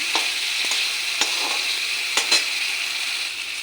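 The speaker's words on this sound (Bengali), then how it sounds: "গ্যাসটা একদম লো করে দিয়েছি মাছটার সঙ্গে পুরনটা মিশিয়ে নিই" Fish mixed with its stuffing frying in a pan over a very low gas flame, a continuous close sizzle with a few sharp stirring clicks and scrapes.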